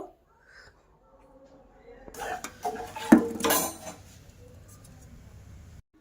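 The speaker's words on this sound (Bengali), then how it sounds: "চিনিটা দিয়ে এবার ডিমের সঙ্গে ভালো করে মিশিয়ে নেব।" Sugar and eggs being mixed in a bowl make a burst of clinking, scraping utensil strokes against the bowl, rising after a quiet start and fading to low room noise.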